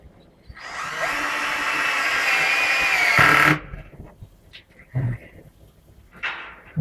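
A power tool cuts roofing sheet metal in one long, loud, shrill whine lasting about three seconds that stops abruptly, followed by quieter handling knocks and clatter.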